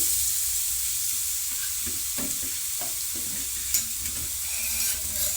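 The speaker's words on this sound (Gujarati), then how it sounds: "આપણું ઘી 1 થી 2 મિનિટમાં ગરમ થઈ ગયું છે। હવે આપણે તેમાં આ વાટકી વડે ગાજરનું શીણ નાખી દઈશું।" Grated carrot fries in hot ghee with a steady bright sizzle, joined by soft scraping and stirring sounds close by.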